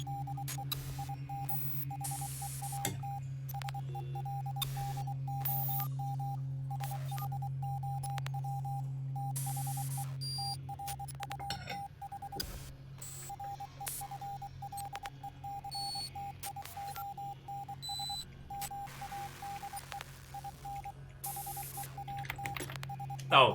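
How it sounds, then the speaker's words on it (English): Glitchy Morse code signal in a video game, a faint steady tone broken into irregular beeps and stuttering bursts over a low hum, with scattered clicks and digital blips. "It's Morse code, but it's glitchy."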